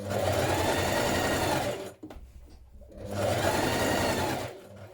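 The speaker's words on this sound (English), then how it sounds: "Top stitch your tuck in place" A sewing machine top stitches a tuck on a dress in two loud, fast whirring bursts separated by a short pause, close up and without speech.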